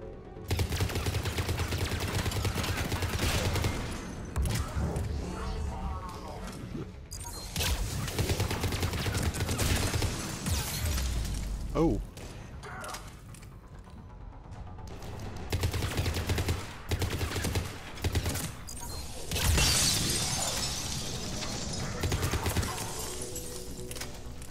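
Dense gunfire with cryo rounds in Mass Effect 3, rapid bursts of shots over a constant loud battle din, with brief lulls between volleys.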